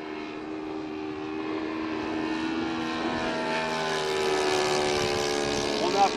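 A propeller aircraft flies past with a droning engine tone that swells and shifts in pitch as it passes, steady and fairly loud, while people talk over it outdoors.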